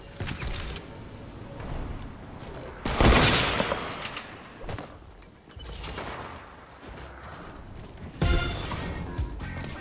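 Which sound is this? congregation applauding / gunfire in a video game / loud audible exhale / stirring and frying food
gunfire in a video game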